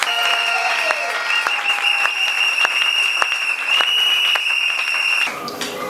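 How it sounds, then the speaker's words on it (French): Congregation at a church ordination applauding continuously, mixed with a sustained high tone and music, ending abruptly near the close. "nous invitons toute l'assemblée aux applaudissements avec forte vibration"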